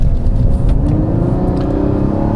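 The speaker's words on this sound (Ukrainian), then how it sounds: "Зрозуміло, що це великий двигун, в нього гарний голос" The large six-cylinder engine of a Mazda CX-60 crossover runs with a deep, steady rumble and a faint whirring whine layered on top, close and loud with no talk.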